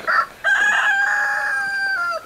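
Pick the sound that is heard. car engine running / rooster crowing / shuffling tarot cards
rooster crowing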